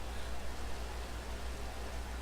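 Constant rain in the Minecraft modpack Sky Factory 3, a flat, dense hiss that stays level throughout with no voices or other sounds.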